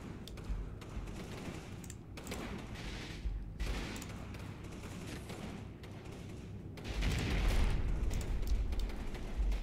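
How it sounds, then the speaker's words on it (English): A .50 cal machine gun fires in a Combat Mission: Battle for Normandy game, long dense bursts of rapid gunfire that swell louder near the end over a constant battle din. "I hear that 50 cal spin up"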